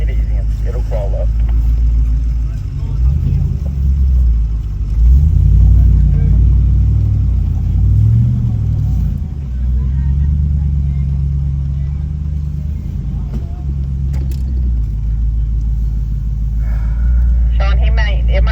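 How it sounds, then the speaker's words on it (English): A truck engine rumbles low and steady as the truck crawls up a steep off-road hill in the North Carolina mountains. The engine swells briefly under load, and voices can be heard at times. "I'm sure your truck's just going to crawl up this hill"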